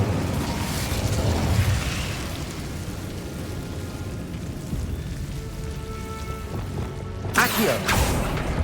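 Incendio fire spell in Hogwarts Legacy, a rumbling blast of flame over dense crackling game ambience, with a sharp bright burst near the end.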